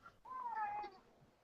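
A pet cat meows once indoors with a single soft, drawn-out call that slides downward in pitch. It sounds faint and a little distant over a quiet room.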